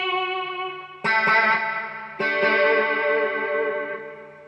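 A guitar run through a preset on a Zoom MultiStomp pedal, with chords struck twice and each left to ring out under chorus, distortion and echo, swelling loud and decaying slowly with no voice present.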